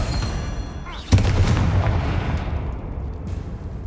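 In Hogwarts Legacy, a Confringo fire spell explodes with a single loud booming burst that rolls into a fading rumble and crackle, heard over a dense game-sound background.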